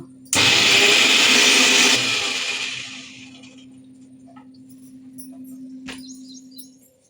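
Kitchen mixer grinder blending ginger and chili, a sudden loud whirring burst lasting under two seconds before it winds down into a fading low hum, followed by a single sharp click.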